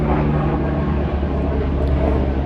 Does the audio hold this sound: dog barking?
no